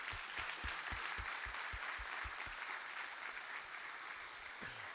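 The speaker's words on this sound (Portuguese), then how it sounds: "Então eu quero pedir um aplauso a Jesus pela vida do pastor Clemente." A church congregation claps together in sustained applause honoring a pastor, a dense, steady wash of hand claps filling the room, with a few sharp low thumps early on and a brief voice near the end.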